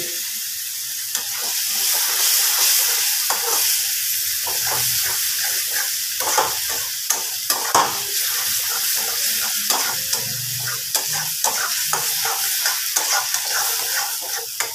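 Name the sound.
stir-frying soybean curry in a pan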